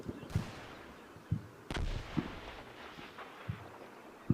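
Mortar rounds and gunfire crack out in the World War II Normandy wargame Combat Mission, with scattered sharp shots and heavier thumping bursts, some near and some distant, spaced irregularly over quiet background noise.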